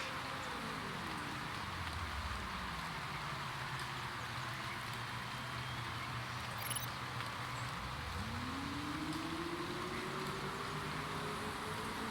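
Rain hisses steadily in a racing video game, a broad soft patter under the low drone of car engines that fall and rise in pitch as cars pass, all at a distance with no voices.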